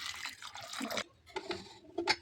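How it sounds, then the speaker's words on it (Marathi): Water splashes and gurgles into a metal pressure cooker in short uneven pours, close and fairly quiet. "त्याच्यात टाकते पाणी."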